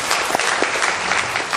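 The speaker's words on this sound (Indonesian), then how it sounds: "Tepuk tangan dong buat portir." Audience applause for the hospital porters, dense steady clapping from a crowd throughout, fairly loud and uninterrupted.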